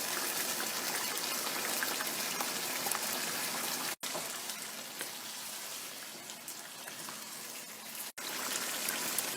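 Yogurt goes into a pan of dhaba-style Shahi white chicken korma, and a loud, continuous hissing sizzle fills the pan, broken by two brief cuts in the sound.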